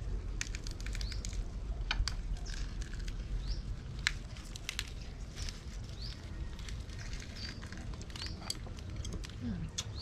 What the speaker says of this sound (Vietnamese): Trời mưa lâm râm luôn, quá lý tưởng luôn.